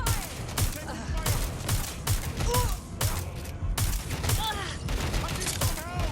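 Dense, sustained gunfire from the video game Watch Dogs: Legion, with rapid overlapping shots and bursts rattling close and loud for several seconds without letup.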